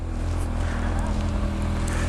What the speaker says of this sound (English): Exhaust has just been fitted.